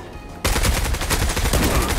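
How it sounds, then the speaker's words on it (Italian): Gunfire in the video game Zula Europe: after a quiet moment, a loud, close burst of rapid automatic shots rattles on continuously to the end. "Dai che gli ho sparato"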